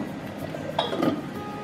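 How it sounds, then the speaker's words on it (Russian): A metal lid set down on a pot of rice boiling on the stove during pilaf cooking with chicken: a single short clink and light rattle, close and fairly soft over a steady background hiss. "Закрываем крышку."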